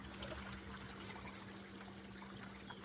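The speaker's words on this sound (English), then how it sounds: "I'm trying to rinse this bucket out." Water runs steadily as a bucket is rinsed out, a faint continuous trickling and splashing with no pauses and no talk.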